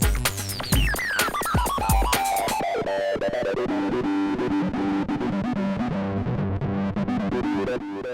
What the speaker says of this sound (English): you can't get the little auto glide slides and stuff like we're getting here